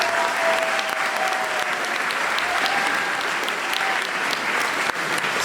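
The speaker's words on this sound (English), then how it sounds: "Make an applause to these people and the first friends" An audience applauds steadily at an opening ceremony in a hall, a dense, sustained clatter of many hands, loud and continuous with no talk.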